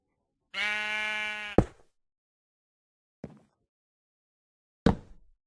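A sheep in Minecraft gives one long, clear bleat, followed by a few short, sharp knocks or plops at intervals against otherwise silent surroundings.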